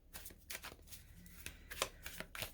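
A tarot card deck being shuffled by hand, a quiet close series of rapid riffling and flicking bursts with brief pauses between passes, no talk.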